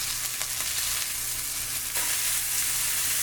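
Thick filet mignon searing in a hot pan, a steady close hiss and crackle of sizzling fat, continuous and fairly loud with no voices.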